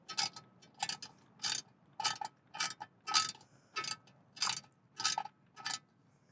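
A ratcheting wrench tightens a bolt while assembling a fat tire step-through e-trike, giving about ten short, evenly spaced bursts of clicking, close and fairly quiet, with no talking.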